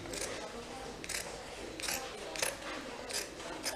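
Fabric scissors cut through a denim jeans waistband in a series of crisp, evenly spaced snips about every second, heard close up while someone speaks.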